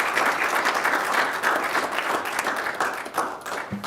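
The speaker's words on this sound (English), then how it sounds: "give a round of applause to our staff and everyone else involved in these proclamations" Sustained applause from the attendees of a city commission meeting, a dense, even wash of clapping hands filling the whole stretch with little else over it.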